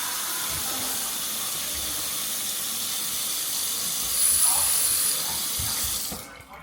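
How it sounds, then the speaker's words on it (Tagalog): A house faucet runs steadily during a final home walkthrough, a broad even hiss of flowing water that swells slightly near the end before being shut off abruptly. "Check na rin natin yung gripo dito."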